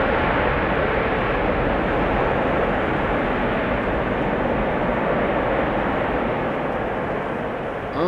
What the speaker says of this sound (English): Bit of a delayed application of the reversers there.